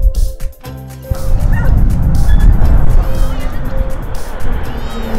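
Two dogs at a dog beach bark and yip excitedly, loud and close, in quick repeated bursts over steady wind and surf noise, with a brief pause near the start and distant people chattering.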